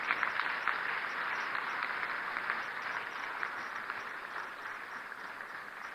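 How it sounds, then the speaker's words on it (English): Prolonged audience applause at a national economic dialogue ceremony in Ghana, an even wash of many hands clapping that holds steady for the whole stretch, fairly loud and unbroken by speech. "If we can just support with a longer applause"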